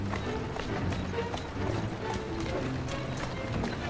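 Horse hooves clop in a steady trotting rhythm in Assassin's Creed Syndicate, mixed with carriage rattle and mechanical clatter in a dense, continuous bed of game noise.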